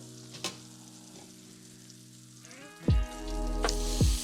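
Wagyu steak dropped into a pan of foaming fat sizzles up loudly, quiet bubbling first, then a sudden surge of steady frying hiss with a few clanks of the pan, no talking.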